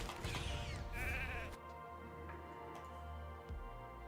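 A sheep bleat from a polymorph spell in an arena fight of a video game, a loud wavering cry up front, followed by steady ticking game sounds.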